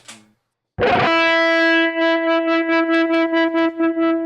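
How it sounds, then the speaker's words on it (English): Electric guitar through an effects unit: a brief note, a pause, then a distorted sustained chord that pulses in rapid, rhythmic stuttering volume swells, loud and alone. "It's got like a stuttering kind of sound."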